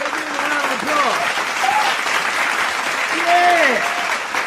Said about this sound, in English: Sean, let's give him a round of applause.